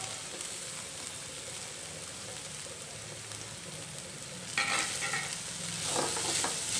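Carrots and capsicum sizzle and hiss in green masala over a high flame, a steady frying wash broken by louder stirring rustles toward the end.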